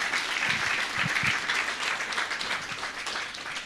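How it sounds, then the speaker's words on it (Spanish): A church congregation at a Sunday service breaks into applause, a steady, even roar of many hands clapping with no voices on top. "Una vez más vamos a dar, por favor, fuertes aplausos al pastor César."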